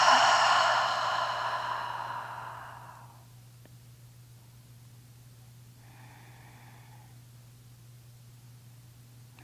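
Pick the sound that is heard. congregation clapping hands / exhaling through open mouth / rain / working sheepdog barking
exhaling through open mouth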